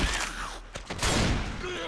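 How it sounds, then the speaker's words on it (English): Rapid automatic AK rifle fire in Left 4 Dead 2, a steady dense burst of shots running through the whole moment, loud and fairly close, with faint voices mixed in. "I hear AK noise."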